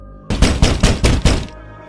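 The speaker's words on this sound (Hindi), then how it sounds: "कुछ सेकंड बाद फिर से दस्तक हुई।" Knocking on a main door at night in a horror story, five quick heavy thuds in a rapid even rhythm, loud and close, followed by quiet.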